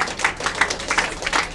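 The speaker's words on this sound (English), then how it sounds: "All right, give a round of applause." Sparse applause from a small audience at a dance-off, a few hands clapping in an uneven, moderately loud patter with no voices over it.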